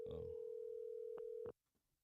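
A telephone call tone sounds as a steady, unbroken electronic hum for about a second and a half, then cuts off abruptly. A voice is briefly heard over the start of the tone.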